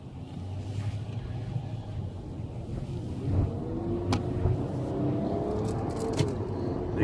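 A 2016 Nissan Pathfinder S accelerates hard on the road, a steady engine drone rising in pitch with a step-like change as the transmission shifts, heard from inside the cabin with road and wind noise.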